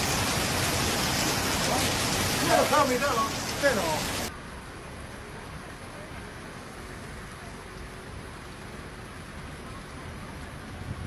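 Heavy rain and flash flood water in Beijing's Mentougou district, a loud broadband rush of downpour and flowing water that drops abruptly to a quieter steady hiss partway through.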